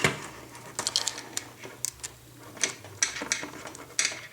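A 3mm nut being tightened on a Traxxas Stampede RC truck, heard as a series of small, close metallic clicks and ticks from a tool, irregularly spaced over a few seconds.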